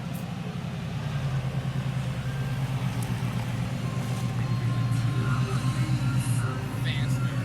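A pickup truck engine rumbles low and steady at a classic car event, with a throbbing idle that stays close and continuous while people talk nearby.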